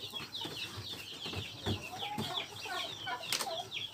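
Newly hatched chicks from a manual incubator peep constantly, a dense close chorus of high chirps filling the whole stretch with little pause.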